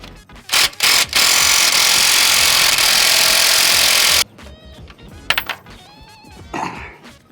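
A wrench or air tool working rusty 7/8 bolts on a 1972 Ford 4x4 truck makes a loud, sustained grinding rattle for about four seconds after a few sharp clanks, followed by quieter scattered metallic clicks.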